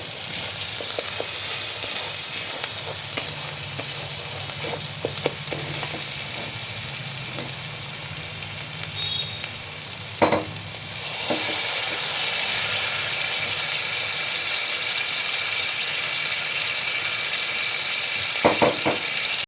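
Spice paste fries in oil for a Bengali-style prawn curry, a dense steady sizzle with occasional stirring knocks, which grows louder and hissier about halfway through.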